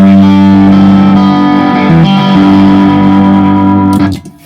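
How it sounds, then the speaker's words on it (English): Electric guitar through a Blackstar IDX modelling amp on the indie crunch preset, with a loud, slightly driven sustained chord that rings and then cuts off abruptly at the end. "Indie crunch."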